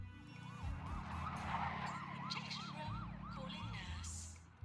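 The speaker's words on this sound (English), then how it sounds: "so our little 3-wheeler ambulance" A wailing ambulance siren from the hospital management game Two Point Hospital rises and falls repeatedly over a low engine-like hum, fairly quiet and continuous.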